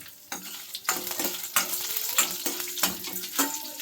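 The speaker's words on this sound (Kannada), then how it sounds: "ಇಷ್ಟನ್ನು ಎಣ್ಣೆಯಲ್ಲಿ ಇವಾಗ ಫ್ರೈ ಮಾಡ್ಕೋಬೇಕು" Peppercorns, tamarind, garlic, ginger and coriander seeds fry in oil on a low flame for Karnataka badanekayi ennegayi, giving a steady close sizzle broken by repeated scraping stirs about every half second.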